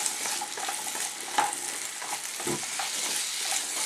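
Potato pieces frying in hot oil in a pan while an egg kurma is cooked, a continuous close sizzle with light stirring scrapes, no voices.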